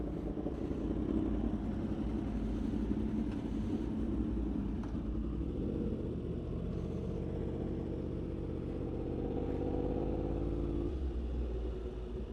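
A Yamaha R1M superbike engine accelerating, a steady low rumble with a slight rise and fall in pitch, heard from a moderate distance and fairly faint.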